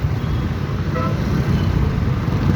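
Heavy Sunday traffic in Quiapo, a steady low rumble of cars and engines close by with a brief faint horn-like tone partway through, continuous throughout.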